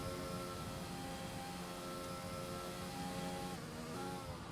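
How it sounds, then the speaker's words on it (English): A loud, steady racing car engine in a sim racing game drones at a constant pitch throughout, with a slight shift near the end and no voices. "The car's very loud at the moment. I think the game engine's turned up just a little bit"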